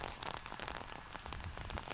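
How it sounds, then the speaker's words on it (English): Rain falls on an outdoor disc golf course during a tournament round, a dense steady hiss of drops striking the ground and foliage, continuous and fairly even with no voices. "it looks like we're getting some rain"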